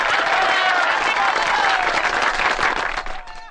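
An audience applauds in a dense, steady wash of clapping with crowd noise and voices mixed in, fading out toward the end.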